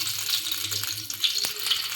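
Brinjal bajji frying in hot oil for a North Karnataka-style snack, a steady soft crackling sizzle with faint bubbling throughout, close by and without voices.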